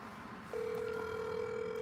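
Ringback tone of an outgoing phone call placed during a live stream, a steady electronic tone starting after a short quiet pause and holding clearly to the end.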